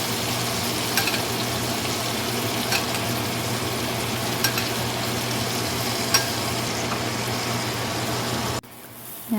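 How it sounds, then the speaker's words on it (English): Filet mignon sizzles in a pan with butter and garlic, a dense continuous frying hiss with a few soft spoon clinks as it is basted, close and steady before cutting off abruptly near the end. "you're going to use a spoon to baste your steak with"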